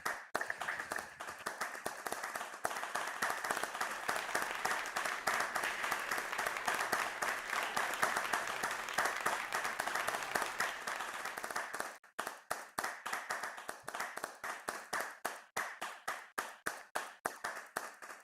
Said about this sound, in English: But we're clapping for you right now.